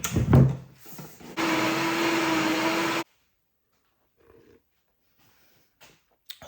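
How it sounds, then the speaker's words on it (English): A blender whirs through a smoothie with a full teaspoon of cardamom powder. The steady, loud motor roar runs for about a second and a half after a few clunks, then cuts off abruptly into near silence. "now let's blend this baby up real quick"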